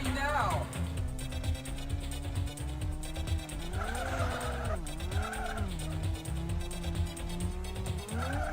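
A race car in the Rave Racer video game drifts with a sustained engine drone that rises and falls in pitch, layered with long tire squeals and skids, while a voice talks over it.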